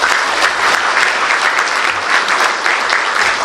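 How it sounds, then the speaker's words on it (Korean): Dense applause from a large audience at a provincial council's New Year reception, steady and loud throughout with no voices on top. "박수 한번 해주시기 바랍니다"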